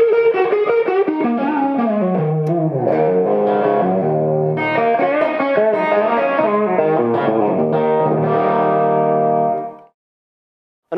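Electric guitar through the distortion channel of a Triple Drive Supreme amp, thick sustained chords ringing out loud and saturated for about ten seconds, then cutting to silence.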